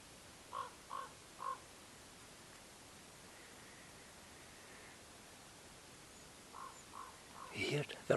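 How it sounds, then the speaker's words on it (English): A raven calls outdoors in winter, three quick hoarse croaks early on, then more calls later that rise into a louder burst near the end, all over a steady hiss of noise. "You hear the raven."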